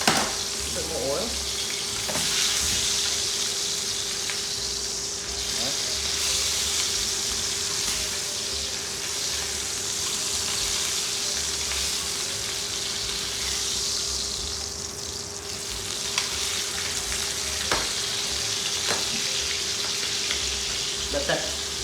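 Prosciutto-wrapped chicken breast fries in oil in a pan, giving a steady, dense sizzle that holds throughout, with a few small clicks and a faint constant hum underneath.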